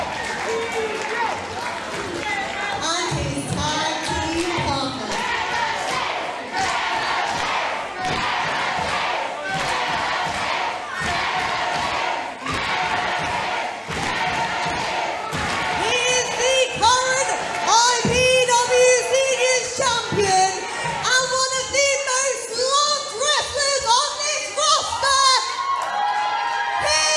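A wrestling show crowd roars and screams wildly, a dense wall of cheering and shouting voices with children yelling among them, loud and sustained, with an announcer talking over it.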